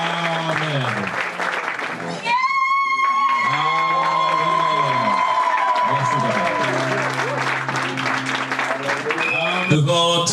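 A church wedding congregation applauding, heard as loud, sustained clapping throughout, with music playing and voices audible underneath.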